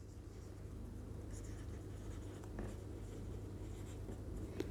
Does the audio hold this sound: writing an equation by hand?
yes